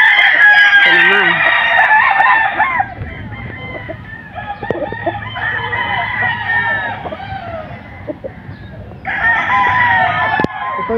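Gamefowl broodcock rooster on a game farm crowing loudly and close several times, with clucking and quieter farm sounds between the crows.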